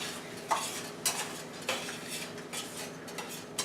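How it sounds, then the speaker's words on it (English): A spoon stirs tomato sauce in a pan for lasagna, scraping and clinking against the metal a few times over a low, steady sizzle, close up with no talk. "we can go ahead and add our tomato sauce, and we're going to reduce the heat down to low. I'm going to go ahead and give it a good stir"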